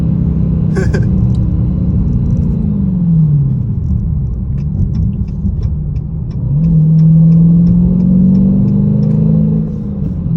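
A 2021 Dodge Challenger Scat Pack with a six-speed manual pulls hard in second gear, its engine rumble rising steadily from up close, dipping briefly and then climbing again, with faint ticking clicks over it.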